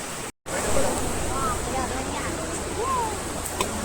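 Fresh water from the hills flows behind an iron bridge in a green forest setting, a steady broadband rush that stays constant throughout, with faint voices under it.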